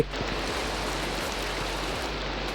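Steady rain falls in Minecraft, an even, close hiss of broadband noise that holds unbroken for the whole stretch with no voices.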